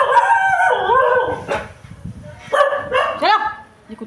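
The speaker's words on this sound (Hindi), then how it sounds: "कुत्ते बहुत भौंकते हैं हमारी गली के" Dogs bark from a street outside a home in a run of loud, harmonic yelps that come in two bursts with a short pause between them.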